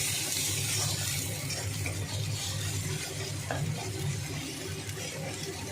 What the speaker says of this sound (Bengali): ভালোভাবে নাড়িয়ে চাড়িয়ে নিচ্ছে।